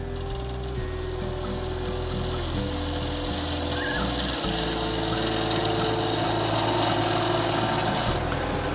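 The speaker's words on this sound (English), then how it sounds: "just taking more of a cut that time, and it's a freshly sharpened tool" A freshly sharpened turning tool cutting wood on a lathe while shaping a wooden shaving brush, a continuous rough rasping hiss over the steady low hum of the lathe motor, shifting slightly as the cut deepens.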